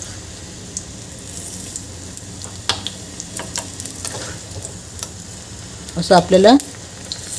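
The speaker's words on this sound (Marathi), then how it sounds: "अलटपलट करून पूर्ण पकोडे तळून घ्यायचे आहे." Bread pakoras deep-frying in hot oil, a steady soft sizzle and crackle with scattered spoon clinks, under someone speaking briefly.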